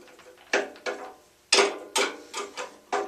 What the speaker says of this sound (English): turn this a little bit at a time with my large box wrench